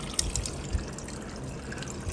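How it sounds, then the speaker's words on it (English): Squash and cucumber lemonade poured from a container, a soft steady liquid stream with a few light splashes, close and fairly quiet, no talking. "now I am ready to pour the delicious juice"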